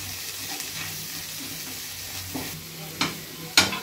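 Masala sizzles and fries in a pan as it is stirred for a fenugreek leaf and green pea cream curry, a steady close sizzle with a few sharp scraping clinks of the spoon toward the end.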